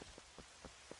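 Rain in the video game Twilight Princess, a soft steady patter with a few regularly spaced thuds, faint and without talk.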